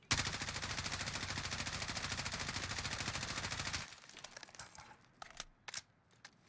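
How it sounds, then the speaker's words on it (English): An automatic gun in a shooter video game empties a full magazine in a rapid, evenly spaced burst of loud shots lasting nearly four seconds. Sparse clicks and small clinks follow in the quiet afterward. "Now I'm just gonna shoot. Let's see, empty out the whole clip."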